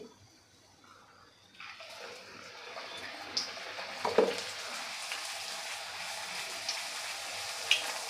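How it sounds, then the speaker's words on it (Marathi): A tomato-fenugreek puri deep-fries in hot oil, starting quiet and then swelling into a steady, moderately faint sizzle, with a few splashy bursts and light clinks over it. "तुम्हाला अजून एक मी पुरी तळून दाखवते."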